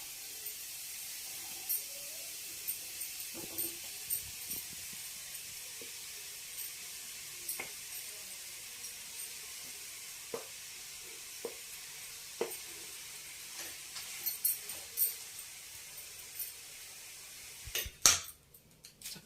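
Foxtail millet upma being stirred in a pan: a steady soft sizzle with scattered light scrapes and taps from the spoon, and a busier clatter near the end.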